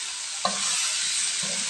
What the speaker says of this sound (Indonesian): kita masukkan nangkanya